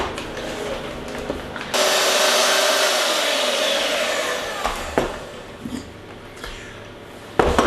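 Electric mixer beating six egg whites until stiff for a soda cracker torte, a loud continuous whirring that kicks in abruptly and holds steady, then cuts off, followed by a few clatters and bumps.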